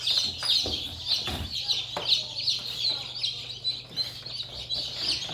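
Young Lohmann Brown chicks in an incubation setup chirp and cluck steadily at close range, a busy layer of high peeping over a low constant hum.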